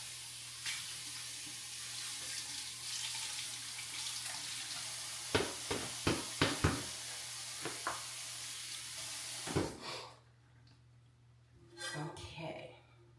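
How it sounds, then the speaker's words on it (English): Tap water runs steadily into a kitchen sink as a small rag is rinsed, with a few sharp clunks partway through before the flow stops, followed by faint movement and brief speech. "Rinse that out."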